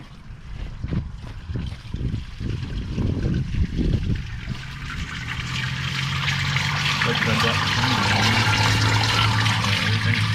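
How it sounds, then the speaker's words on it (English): Water rushes through a newly laid sewer line pipe, starting with gurgling pulses and building into a steady, loud hollow flow that fills the rest of the clip, with some talk early on. "Hear the water flowing through the pipes."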